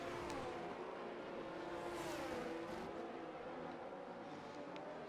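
A race car in a sim racing French Grand Prix, a Williams battling for position, accelerates with a steady, rising engine whine that sounds faint and somewhat distant.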